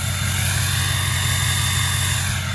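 A 2006 Ford F250 4x4 Powerstroke diesel with a 4-inch turbo-back exhaust runs just after a cold start, giving a steady, close, low rumbling idle with no change in pace.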